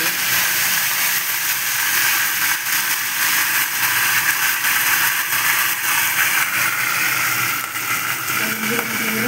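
Eggplant pieces dropped into hot oil in a kadai give a loud, steady sizzle and crackle that keeps going at an even level without letting up.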